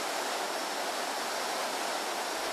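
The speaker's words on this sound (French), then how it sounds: "nous entendons soudain le bruit d'une cascade" A waterfall in the Guyana rainforest roars with steady, dense, broadband rushing water, constant and fairly close throughout, with no voices.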